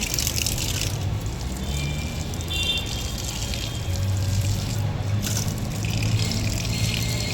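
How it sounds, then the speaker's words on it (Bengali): Garden plants being watered, with a steady, moderately quiet stream of running and splashing water that continues without a break. "এই জন্য গাছগুলোতে আমি জল দিচ্ছি।"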